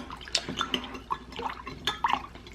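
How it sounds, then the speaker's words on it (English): Chicken stock, made from water and bouillon cubes, poured into stuffing mix, heard as a run of close, irregular wet splashes and drips with no talking. "I'm going to go ahead and throw in some chicken stock"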